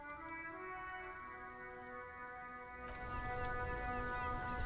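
Rain falls in Disco Elysium, a soft steady patter beneath sustained tonal music, growing a little denser and louder partway through.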